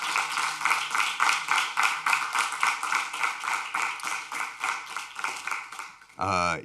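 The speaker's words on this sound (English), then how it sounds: "Audience, if we could give the panel a round of applause for this great discussion we had this evening." An audience at a Juneteenth panel event gives a round of applause, heard as a rhythmic run of crisp claps in even pulses. A short voice cuts in right at the end.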